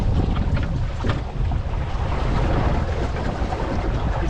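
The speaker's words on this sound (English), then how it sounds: "Just going to bring the jib in and tickle." Wind roars across the microphone aboard a sailboat as the jib is furled, with water rushing along the hull; the sound is loud, close and continuous.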